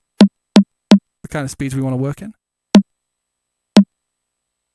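Synthesized snare fundamental from a modular grid patch, short low percussive thumps struck singly at uneven intervals, with a brief stretch of talking in between.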